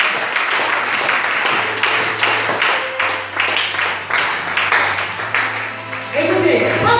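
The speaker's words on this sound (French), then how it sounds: "Acclame le Seigneur très fort." A church congregation claps and cheers in loud, continuous applause that fills the room throughout, with voices mixed into the crowd noise.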